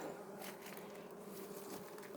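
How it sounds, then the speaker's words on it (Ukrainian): Bees returning to a swarm in a wall hum steadily all around, a dense, continuous buzz with no pauses. "Сюди ще одіночні бджоли вертаються"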